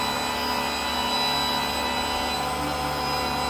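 Machine polisher working a ceramic coating onto a car's paint, a steady, even motor whine held at constant level with no talk over it.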